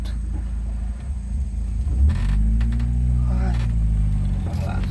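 Cars pass on the BR-319 highway between Manaus and Humaitá in the Amazon. A constant low rumble swells as a vehicle approaches and goes by, its engine tone rising and falling, with faint voices in the background.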